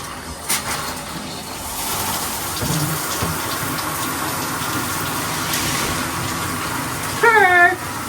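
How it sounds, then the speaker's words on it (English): Water runs steadily from a tap with a constant hissing gush, a brief higher squeak near the end. "we're gonna let the water run."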